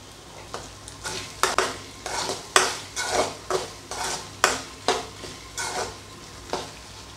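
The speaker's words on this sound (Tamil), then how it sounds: "இந்த ஸ்டேஜில் கொஞ்சம் கருவேப்பிலை சேர்த்துடலாம்" Drumstick pieces frying in a pan for a prawn gravy are stirred with curry leaves, a steady run of about a dozen scraping strokes over a constant sizzle, close and loud with no talking.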